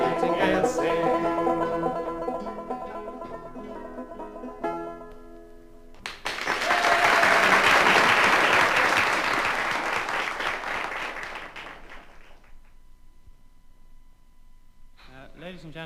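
Audience at a live Irish folk concert applauding loudly after a song, the clapping swelling and fading as instruments and a voice are heard before and after.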